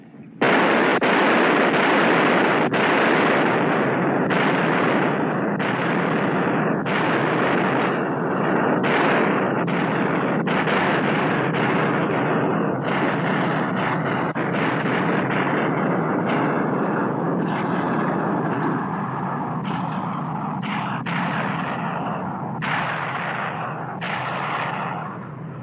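Bombs dropped from a B-29 Superfortress in a 1951 WW2 war film burst in a long rapid string of loud, booming detonations, one after another, then fade into a rumbling roar.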